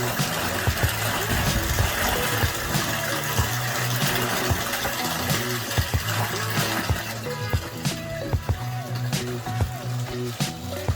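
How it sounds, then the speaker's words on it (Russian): Continuous rushing water pours into a homemade septic tank with steady gurgling and a mechanical hum underneath, punctuated by occasional knocks and clanks. "Заливаю воду, наполняю септик."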